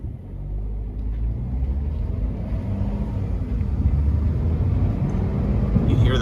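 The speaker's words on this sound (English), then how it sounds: "you hear that turbo" Low, steady rumble of a cabover truck running under load, its turbo adding a faint rising whine over the engine drone from inside the cab, with a voice briefly audible.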